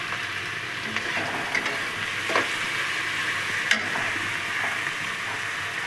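Carrot, capsicum and onion frying together for chira pulao, a steady close sizzle broken by a few light spatula scrapes and taps against the pan.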